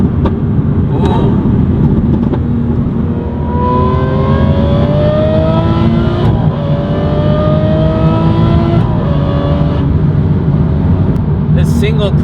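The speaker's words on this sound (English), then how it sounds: "we're gonna go ahead and do one acceleration." A car with a single-clutch transmission accelerates hard, its engine pitch climbing through several gears with short breaks at each shift, loud and close, with steady road roar underneath.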